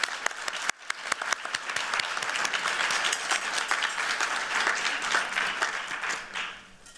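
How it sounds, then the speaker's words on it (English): An audience at a Harvard Black in Design 2025 keynote applauds the speakers, a dense sustained wash of many hands clapping that swells quickly, holds steady for several seconds, then tapers off at the end. "Can we give them another round of applause"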